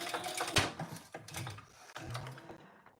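A sewing machine top stitching, a quick mechanical rattle of short bursts with small clicks and pauses between runs, fairly quiet and close with no talk.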